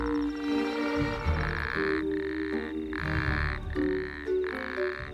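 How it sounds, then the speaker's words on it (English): An Arabian toad calls to attract females at night in an eerie valley, its throat pouch amplifying a series of loud, close, buzzing trills in regular bursts with short gaps, over other croaking frogs and a steady night-chorus background. "He needs to put on his best voice to serenade the females. His extending throat pouch amplifies his call"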